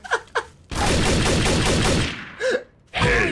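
Sustained automatic gunfire from the video game Trouble in Terrorist Town, a loud, continuous burst of rapid shots lasting a couple of seconds, with shorter bursts before and after.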